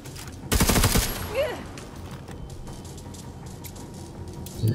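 Rapid automatic gunfire rattles in a loud burst in the Necromunda: Underhive Wars video game, followed by quieter ambient game sounds and a brief later shot.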